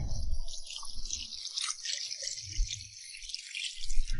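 Water pours and splashes into a cooking pot for spicy chicken hot pot, a continuous close trickle and gurgle with a few drips, moderately loud with no talking.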